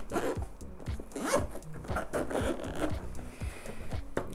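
Zippers on a sturdy GoPro carry bag being pulled open, a run of quick rasping zips in close succession, close and fairly quiet.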